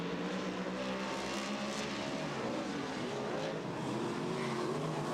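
Speedway race cars roaring around a dirt oval in a race, a dense continuous engine drone with rising and falling pitch sweeps from several cars at mid distance, steady and loud throughout.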